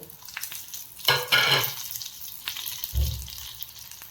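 Black pepper, cumin, garlic and curry leaves tipped into a hot pan for ridge gourd chutney burst into a loud sizzle that fades, followed by a dull thump and quieter crackling; no voices.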